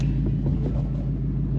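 A 2024 Mustang GT V8 with a Steeda H-pipe exhaust idles in track mode after a warm start, giving a steady, loud, low rumble with a slight lope and no revving.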